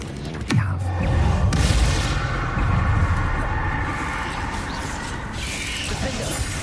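The Bombarda explosion spell in Hogwarts Legacy goes off with a sharp descending whoosh, then a heavy rumbling boom that rolls on amid dense combat clatter and crackle, with a voice calling out over it.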